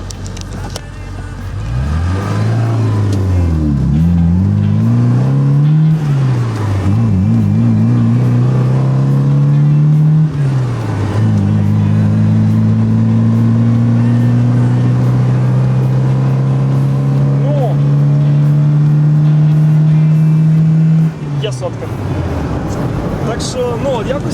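A khaki-green VAZ 21043 estate accelerates hard toward 100 km/h, its engine note climbing and dropping through gear changes up to about 4000 rpm, loud and close from inside the cabin, then easing off at the end.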